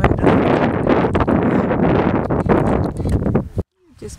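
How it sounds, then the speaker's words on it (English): Strong wind blows outdoors at the Ithumba elephant site, buffeting and roaring close in gusts, with someone talking over it before the noise drops out abruptly near the end. "And the wind's blowing."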